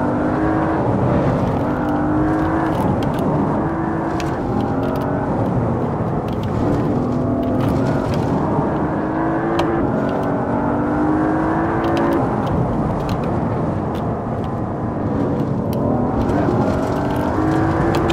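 Audi RS6 four-wheel-drive car driven in the Assetto Corsa VR racing game, a continuous engine drone rising and falling in pitch through repeated accelerations and gear changes, steady and loud throughout.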